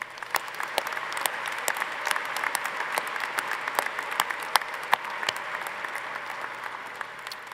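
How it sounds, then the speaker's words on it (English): Applause at a university winter commencement ceremony for the planning committees, faculty and staff; a large hall of steady clapping, fairly soft overall, with scattered louder claps up close. "Let's give them also a round of applause."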